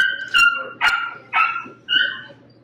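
A puppy at home gives four sharp, high yipping barks at a steady pace, close by and loud, with no talk over them.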